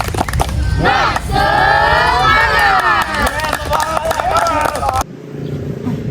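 Children in a school physical education class perform a rhythmic clapping cheer, with sharp claps followed by loud, chanted shouting from the whole group, cutting off abruptly near the end.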